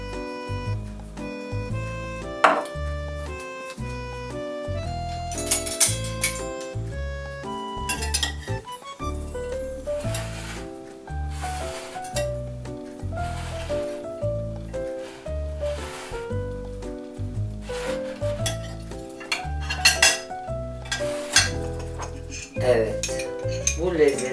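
A utensil scraping and clinking against a bowl while green onions and dried parsley are stirred into potato salad, a steady rhythm of clinks heard under background music.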